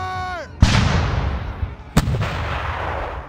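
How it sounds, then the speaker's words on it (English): Two loud cannon blasts from an eight-gun artillery battery in a 1757 siege of Fort William Henry, each a sharp boom followed by a long rumbling decay, the first after a brief fading tone. "the left battery, which is 8 pieces of cannon, begin to shoot. Fire!"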